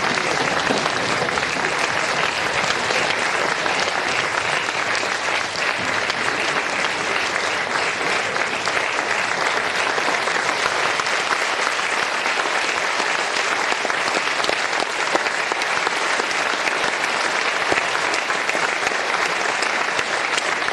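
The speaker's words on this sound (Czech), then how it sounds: "děkujeme vám moc za váš potlesk" A long, sustained round of audience applause after a folk ensemble's performance at its 55th anniversary in Strážnice, the crowd clapping loudly and evenly from start to finish.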